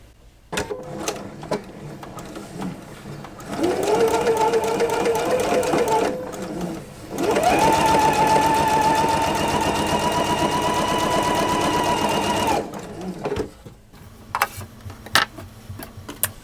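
A sewing machine stitches quilt pieces for scrappy hourglass units in two sustained runs of rapid, even mechanical whirring, close and loud, with clicks and handling taps before and after.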